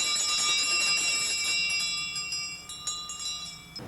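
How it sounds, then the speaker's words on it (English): Bells hung on mules, ringing in a steady cluster of bright metallic jingles that fades and turns more scattered toward the end, moderately near, with no voices. "The bells we put on the mules at night"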